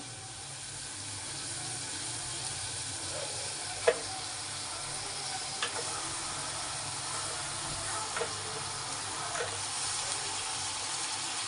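Onions and vegetables fry in oil inside a pressure cooker, giving a steady close sizzle with a few faint clicks of stirring and no talk.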